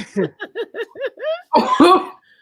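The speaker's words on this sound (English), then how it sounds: "That was like one of them smoker coughs or something." A woman's short run of breathy bursts in quick succession, building into a louder, rougher smoker-like coughing fit at the end.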